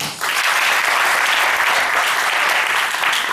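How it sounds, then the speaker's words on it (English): An audience applauds at a talk on preventing child abuse, a dense, steady wash of clapping that rises quickly and holds at full strength throughout. "Please a round of applause for her."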